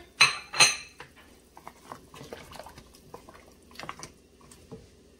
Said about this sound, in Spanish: Yo le voy a agregar el los ejotes y la zanahoria.